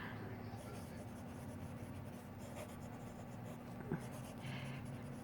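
Fine nib of a Jinhao 80 fountain pen gliding across paper, producing a soft, steady scratching texture that runs continuously, with a faint hum and a small click near the end.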